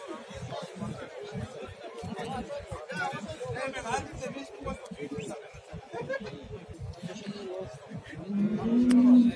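Cattle at a livestock market mill about beneath constant crowd chatter and bargaining voices, with a low moo rising near the end.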